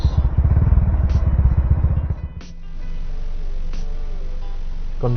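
A motorcycle fitted with an aftermarket exhaust revs hard and close, giving a rapid, loud, pulsing burble for about two seconds. It then cuts out and a steady idling hum remains beneath.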